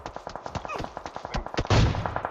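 Rapid gunfire in PUBG Mobile, a quick run of sharp shots with a heavier blast near the end, heard alongside a voice talking.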